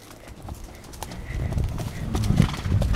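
Horse hooves clip-clopping under a rider on horseback weaving among trees, a close steady rhythmic beat growing slightly louder, with light rustling around it.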